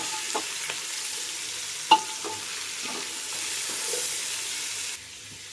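A soft, steady sizzle from a pan of tomatoes, bottle gourd and cucumber with a few light scraping clicks of a utensil stirring them, no voices.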